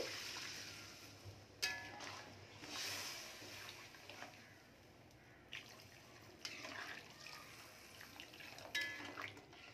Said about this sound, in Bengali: আমি কিন্তু উষ্ণ গরম জলই দিচ্ছি, বেশ কিছুটা দিয়ে দেব।